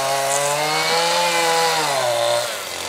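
A chainsaw whines loudly at close range as it bites into wood, the pitch sagging under load before the engine eases off at the end.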